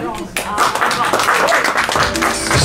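Applause from an open-stage audience at a Gothenburg hip-hop night: a dense, continuous wash of clapping that fills the whole moment.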